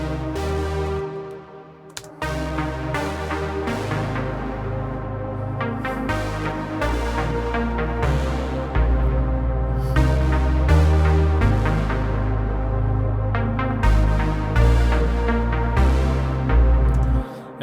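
Dense 80s-style synth pad layered with a deep synth bass in an electronic song intro, sustained chords shifting every couple of seconds at a steady loud level, with no voices.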